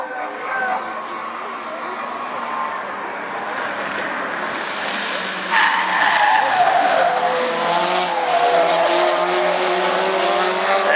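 A race car takes corners on a circuit, its engine revving loudly with squealing tires, the pitch rising and falling through the bends, while a commentator talks over it.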